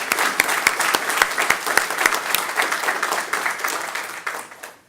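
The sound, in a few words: audience applause at adoption day event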